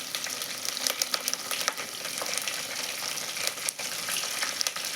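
Curry leaves sizzle and crackle in hot oil with ginger paste, a dense, steady fry with quick pops throughout, close and moderately loud.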